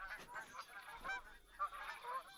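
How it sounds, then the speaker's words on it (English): A skein of geese honks in the hunting game theHunter: Call of the Wild, with repeated faint, distant nasal calls overlapping in an irregular chorus across the outdoor scene. "Skein of geese, I believe."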